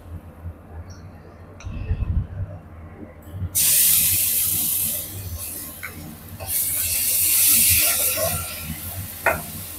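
Ginger and garlic hit a pan of browned onions for a mutton gravy, setting off a sudden loud sizzle that keeps crackling and hissing steadily, with occasional stirring scrapes over the frying.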